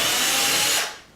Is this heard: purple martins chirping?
no